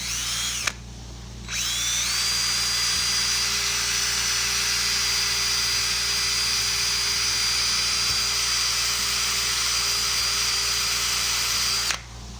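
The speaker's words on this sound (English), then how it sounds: "We're going to do a quick cleanup with our drill and just a little wire brush" A power drill spins a wire brush against metal while cleaning a Triumph TR3 wiper motor, in one long continuous whine, loud and close, starting after a short stutter and stopping abruptly.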